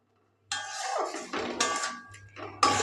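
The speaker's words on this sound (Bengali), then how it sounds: "এরপর আমি সব কিছুকে একটু নেড়ে চেড়ে নেবো" Dal and lentil mixture with turmeric and salt stirred in a pan on a gas stove, scraping and clinking in several short bursts of moderate loudness, close by.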